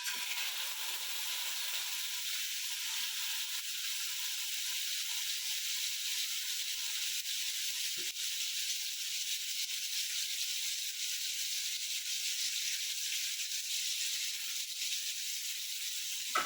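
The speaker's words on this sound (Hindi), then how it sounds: "अभी हम उसमें चिकन डाल देंगे फ्राई करने।" Chicken frying in hot oil, a steady, bright sizzling hiss that holds evenly throughout, close and continuous with no talking.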